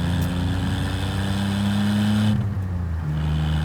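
A turbocharged 1-liter 3-cylinder engine in a small 1980s Suzuki-built GM car drones loudly from inside as it accelerates, pitch climbing steadily, then briefly dipping at a gear change before pulling again.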